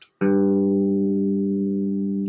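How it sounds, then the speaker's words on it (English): A single plain electric bass note is plucked once and sustains steadily, deep and clean, close up with no voices. "if we play right here, you've got the regular old bass sound."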